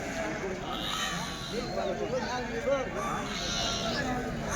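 Sheep bleat repeatedly amid a busy crowd at a weekly sheep and goat market in Kadiri, their wavering cries rising over steady chatter and general market noise.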